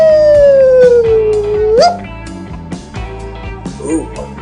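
A man imitates a wolf howl with his voice, one long sliding note that falls slowly then jumps up at the end, loud and close over busy background music.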